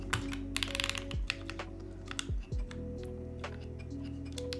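Keys clatter on a mechanical keyboard padded with PE foam, typed close up in quick, uneven runs with a poppy, muted clack, over a steady low hum and a few tonal sweeps.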